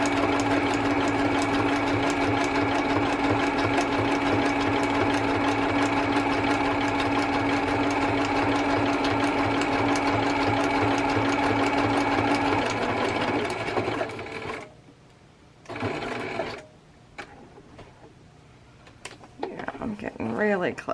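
Sewing machine stitching through a vellum page, a loud, steady rapid whir of needle strokes running for most of the clip, then stopping with short bursts and pauses near the end; a voice speaks over it.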